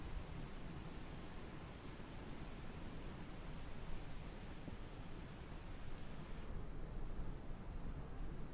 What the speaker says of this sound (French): il pleut à Lyon